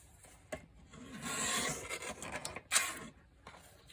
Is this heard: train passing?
no